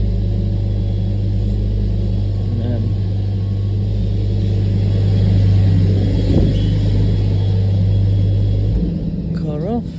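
A 2020 Mercedes A45s sits idling with a steady low engine drone while the steering is turned from full left lock to full right lock, the engine note dropping near the end; a voice speaks briefly over it.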